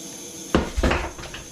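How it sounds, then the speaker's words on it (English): A knife drops at a snowy winter campsite, with a sharp metallic clatter and then a second knock as it hits and bounces, close and brief against quiet surroundings. "Just dropped my knife and busted the tip off it."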